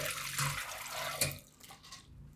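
Soaked moong dal being drained of its water in a kitchen, a close splashing pour with a burst near the start and another around the middle, then tapering into faint trickles.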